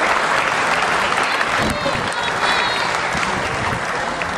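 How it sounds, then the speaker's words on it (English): A crowd at the Samoa Bowl football event in American Samoa gives a dense, continuous round of applause, loud and steady throughout with no pauses. "give all of you a round of applause that you deserve"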